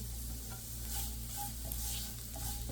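Grated carrot sizzles steadily in a frying pan, a continuous close crackling hiss with faint stirring scrapes and no talking.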